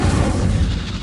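In a PlayStation 5 video game, an Incendio fire spell goes off as a dense, booming roar that holds steady and loud for about a second, with no voices.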